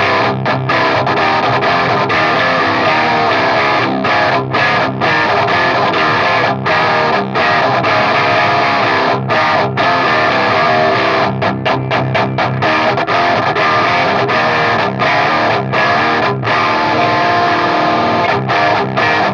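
Electric guitar played through a Polish overdrive pedal, loud and heavily distorted, with dense sustained chords broken by short rhythmic stops throughout, and no talking.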